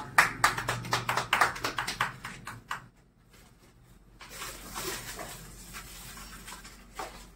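Hospital staff clap at the launch of a robotic hand instrument for paralysis patients: a brisk, close burst of hand claps for about three seconds, then fading into quieter room noise.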